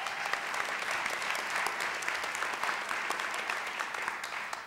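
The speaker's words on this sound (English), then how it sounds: "Let's give her a round of applause." An indoor audience at a city State of the City address applauds a state delegate with steady, dense clapping that holds at an even level throughout before tapering slightly at the very end.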